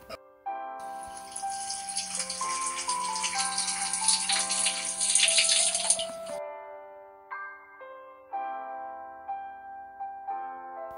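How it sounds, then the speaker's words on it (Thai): Tap water runs and splashes as someone washes their face with plain water, a steady rushing hiss lasting about six seconds over background music, then cutting off so only the music remains. "ล้างหน้าก่อนนะ"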